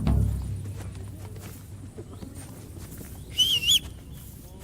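Hooves clop along in an uneven rhythm as a horse approaches in the video game Kingdom Come: Deliverance 2, with a brief high-pitched call partway through.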